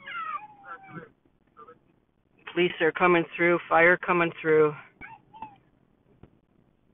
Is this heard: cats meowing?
yes